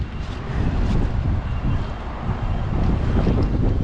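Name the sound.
strong wind over water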